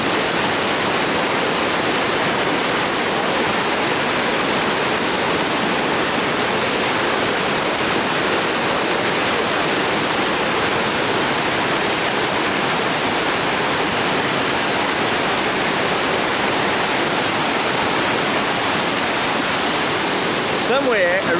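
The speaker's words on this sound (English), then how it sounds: "Somewhere a river runs through it." River water rushes loud and steady as a dense, unbroken roar that stays even throughout, with a faint voice near the end.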